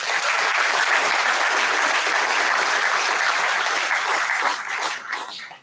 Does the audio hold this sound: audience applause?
yes